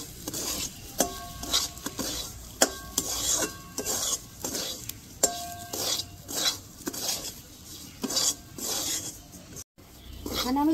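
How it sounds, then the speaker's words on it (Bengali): Semolina fries in oil in a pan while a utensil stirs and scrapes it, repeated clinks and scraping strokes in an uneven rhythm over a soft continuous sizzle, close and fairly quiet. "এখানে আমি 2 থেকে 3 মিনিট সুজিটাকে ভালো করে ভেজে নেব"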